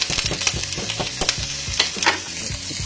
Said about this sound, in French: L'huile d'olive va faire des beaux picotements, beaux petits sons agréables.